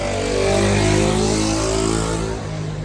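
A small scooter accelerates at full throttle along a street in Holstebro, Denmark, its steady buzzing engine note rising and holding loud and close for a few seconds before easing slightly as it moves away.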